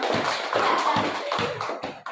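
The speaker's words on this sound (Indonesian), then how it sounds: "Kita kasih aplaus untuk kelompok 1" Classmates clap for group 1 after its presentation in a classroom, a short run of scattered, uneven hand claps with sharp taps, moderately close, briefly rising then fading out.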